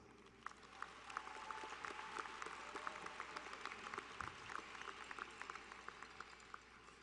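Graduation audience applauding at a high school ceremony, a fairly quiet, distant spread of clapping with scattered sharper claps, steady over several seconds.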